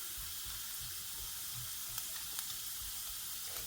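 A steady, quiet sizzle of garlic frying in a pan over low heat, with faint crackles and small pops throughout and no voices.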